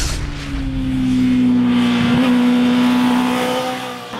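A 2012 Suzuki GSX-R 600 sport motorcycle engine holds a steady, strong drone that swells slightly mid-clip, then eases off toward the end, close by and alone with no voices.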